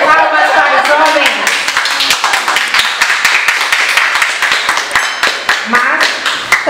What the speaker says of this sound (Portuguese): Salve de palmas para os homens.